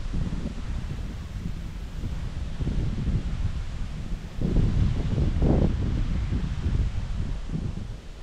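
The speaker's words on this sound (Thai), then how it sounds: "หมุนไปมุ่นมาเปลี่ยนทิศลมเปลี่ยนทิศแล้วก็พัดไปทางนี้แล้วก็พัดไปทางนี้" Wind blows and gusts outdoors on the water by a boat at Lam Khan Chu in Chaiyaphum, a steady broadband rush near the microphone that swells louder partway through.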